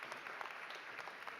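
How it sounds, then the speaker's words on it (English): An audience at a Model United Nations General Assembly opening ceremony applauds a delegation, a soft, dense, continuous patter of many hands, fairly distant. "let's give them a round of applause"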